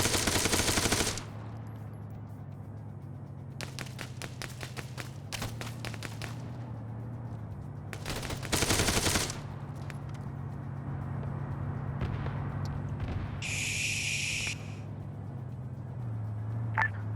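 Gunfire from a military video game operation: several bursts of automatic fire and single shots spread across the stretch, some sharp and loud, others thinner, over a steady low engine-like rumble, with no talking.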